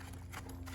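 A horse trots under a rider during a balance lesson, its hoofbeats a quick, muffled clip-clop over a low steady rumble, brief and fairly faint.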